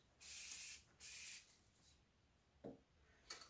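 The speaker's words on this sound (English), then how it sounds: "So before I do any detangling, I do a light mist of the Babassu Moisture Mist" Light mist of Babassu moisture hair spray applied to hair, heard as two short, soft pump-spray hisses near the start followed by faint handling rustles, quiet and close with no talking.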